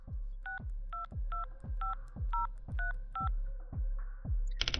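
Telephone keypad dialing in the horror video game Room 202, a call placed to the hotel reception: a steady run of about ten evenly spaced dual-tone beeps over a low hum, ending with a brief brighter burst.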